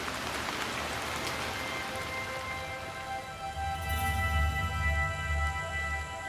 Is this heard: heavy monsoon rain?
yes